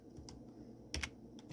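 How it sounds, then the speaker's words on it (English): Quick keystrokes on a computer keyboard typing a short Linux terminal command, a few light clicks and then a tight cluster of taps, close by and quiet with no talking. "we're going to type su, put in our actual correct password"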